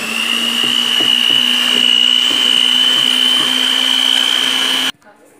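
A blender whirs steadily as it mixes cassava cake batter. The loud, constant motor drone runs close up for about five seconds and then cuts off abruptly.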